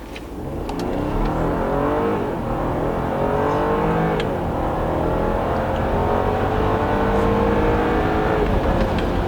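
An Audi Q8 SUV coupe accelerates up to 120 km/h, its engine note climbing through gears in rising, sweeping tones under a steady rush of road and tyre noise, heard from inside the vehicle with no talking.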